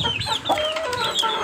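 Newly hatched white chicks peep and cheep steadily in high, chirpy calls that overlap one another at close range, with no voices.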